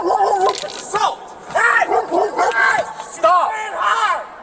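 A dog barks in short, loud bursts close by, mixed with several people shouting over it in a tense confrontation.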